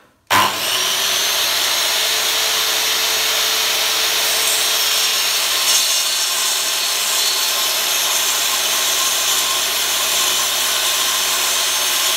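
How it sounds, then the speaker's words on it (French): A miter saw set to a 15-degree angle runs loudly and steadily after an abrupt start, a continuous whining roar of blade cutting through wood with no talking. "je mets ma scie en onglet sur 15 degrés"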